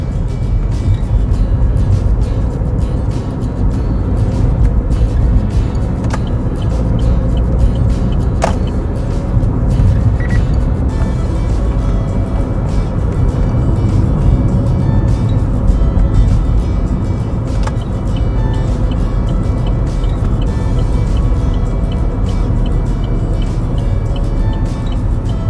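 Inside a manual gasoline Chevrolet Spark coasting in neutral, a steady low road and engine rumble holds throughout with faint ticks and small knocks from the cabin.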